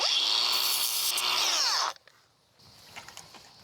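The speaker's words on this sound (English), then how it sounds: "Bam, grinder." An angle grinder runs loudly and steadily while working on mesh in a farm garden, then winds down abruptly, leaving quieter scattered clatter and handling noise.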